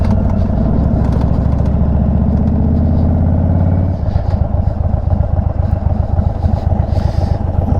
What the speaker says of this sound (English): That's quite a rattle going on there.